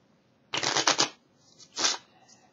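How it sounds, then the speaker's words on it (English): Regular deck of playing cards being handled during a magic demonstration, two quick close riffling bursts of cards, the first longer, separated by a brief quiet pause. "just a regular deck of cards, obviously unmarked"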